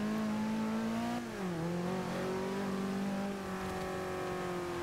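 Car engine in the racing game Forza Horizon 2, revving hard with the throttle overdone in a corner: one steady, moderately loud engine tone that dips and climbs in pitch as it eases off and pulls again.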